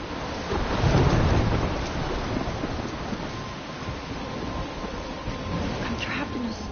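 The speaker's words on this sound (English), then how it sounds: "I'm trapped in a storm?" A thunderstorm with heavy rain from the video game Life is Strange: a low rumble of thunder swells in the first seconds, then steady dense rain hisses on, loud and continuous.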